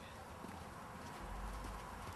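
Horse hooves clip-clopping steadily nearby as the mare moves about in a playful, warming-up exercise, a continuous rhythmic patter with no talk.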